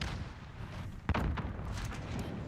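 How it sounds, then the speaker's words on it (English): A single C4 charge detonates in Call of Duty Modern Warfare during a tournament match, one sharp muffled boom rising briefly above a dense, continuous background of game noise. "That's a C4 actually."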